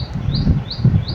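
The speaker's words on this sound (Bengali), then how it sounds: "ওই যে পাখি ডাকছে" A bird calls in three short, rising chirps spaced evenly apart, heard clearly over a low, uneven rumble nearby.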